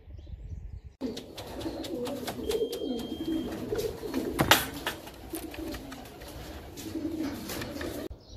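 A young racing pigeon coos in a loft, low soft murmurs repeating steadily over several seconds, with faint chirps from other birds and a brief flutter near the middle.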